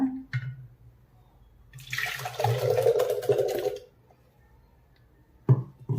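Blended muskmelon juice is poured from a mixer jar into a vessel, a close liquid gush lasting about two seconds, framed by brief clinks of the jar.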